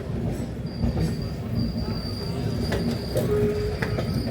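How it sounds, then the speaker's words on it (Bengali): A train passes alongside in West Bengal, heard from a moving vehicle: a steady broadband rumble of rolling wheels with a faint metallic squeal and a few clanks, continuous and fairly loud throughout. "সাইড দিয়ে একটা ট্রেন যাচ্ছে"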